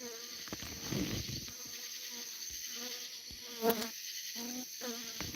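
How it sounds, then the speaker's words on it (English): A bee buzzes around a light turned on outdoors at night, its droning hum steady and close amid a dense insect chorus of cicadas, with one brief louder pass. "You hear that bee flying around?"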